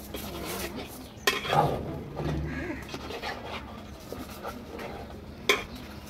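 Lid set onto a cooking pot in a home kitchen, a couple of sharp metallic clanks with clattering cookware between them, a voice murmuring faintly underneath.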